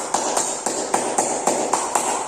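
Rhythmic hand claps for a primary-school counting game, eight sharp evenly spaced slaps at a steady brisk tempo, fairly close and clear, with no talking over them.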